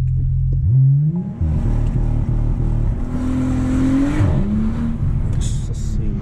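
A car launches hard from a standstill with its engine revving sharply, the pitch climbing through gear changes as it pulls away, loud and close, with people talking over it.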